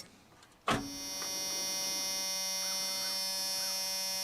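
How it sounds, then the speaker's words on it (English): An electric fuel pump in an old Chevrolet S10 pickup switches on with a sharp click, then settles into a steady, close whining hum that runs on evenly to the end. "That fuel pump is working."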